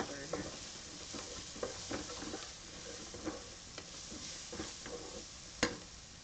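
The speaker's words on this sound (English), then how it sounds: "And give them a little bit of stir here." Onions and garlic sizzling in a soup pot while a spoon stirs through them, with soft scraping strokes over steady frying hiss and one sharper clink near the end.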